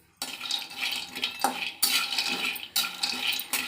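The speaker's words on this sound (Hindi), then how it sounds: "तो कढ़ाई चढ़ा दिया है हमने, अब भून लेते हैं अपना मूंगफली।" Raw peanuts dry-roasting in a kadhai on the stove, with dry scraping, stirring and rattling of nuts against the metal pan in several bursts, close and fairly loud, no talking.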